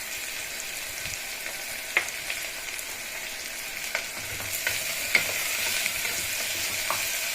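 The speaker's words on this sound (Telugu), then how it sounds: "బాగా వేగనియాలి ఆనియన్స్." Onions fry in a pan with rock salt, giving a steady close sizzle broken by light scraping clicks of stirring.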